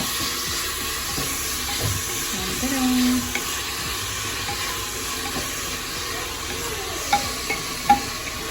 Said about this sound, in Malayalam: ഉപ്പിട്ട് കഴിഞ്ഞാൽ പെട്ടെന്ന് ഉള്ളി വഴന്ന് കിട്ടും അല്ലേ?